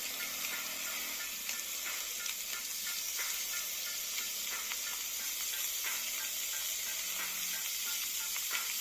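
Bacon sizzling on a flat griddle, a constant hissy crackle with faint pops, close and steady throughout with no talk.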